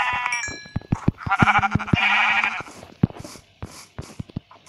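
Sheep bleating in Minecraft, several wavering bleats in quick succession, loud and close, mixed with sharp clicks and thumps of game play.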